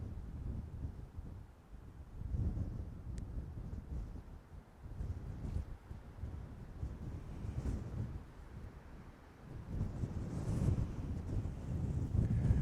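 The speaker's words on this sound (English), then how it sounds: "The wind is pumping. The storm's coming in." Strong, gusty wind buffets the microphone outdoors at an off-grid site in Africa as a storm approaches, a steady rushing roar that swells and eases in waves throughout, with no voices.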